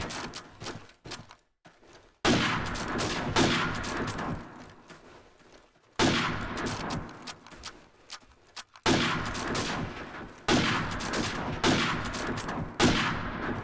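Rapid gunfire in a first-person shooter video game, heard in several long loud bursts of fast shots separated by short quiet gaps, up close and without talk.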